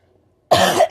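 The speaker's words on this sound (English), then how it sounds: "right now I'm just trying to get over this coughing fit" A short burst of harsh, close coughing breaks out after a moment of silence, loud and rasping, with a brief catch before continuing.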